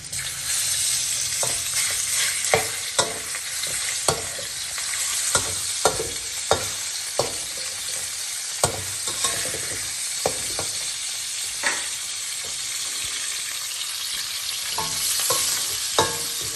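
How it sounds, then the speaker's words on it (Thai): Pork and garlic stir-frying in a pan for an instant noodle dish, a steady hot sizzle punctuated by regular clacking scrapes of a spatula, close and clear with no talking. "เทียมหอมแล้วเราก็ใส่หมูลงไปครับ"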